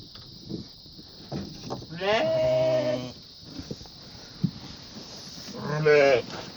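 Sheep bleat loudly nearby, two long wavering calls separated by a few seconds, with quieter barn noises and shuffling in between.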